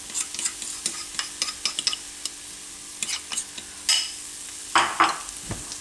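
Chickpea flour wrap batter frying in a pan, a steady sizzle broken by frequent sharp scrapes and taps of a utensil moving the batter, close and fairly loud, with no talking.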